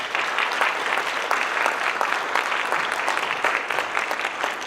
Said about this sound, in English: They're not here, but can we give them a round of applause?